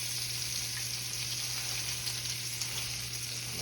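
Country-style pork ribs fry in a skillet with a loud, steady, continuous sizzle, with a low constant hum underneath and no one talking.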